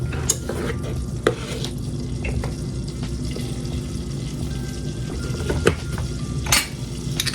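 Flour and butter stirred together in a pot for a baked mac and cheese sauce, a steady low sizzle with occasional scrapes and light clinks of a utensil against the pan.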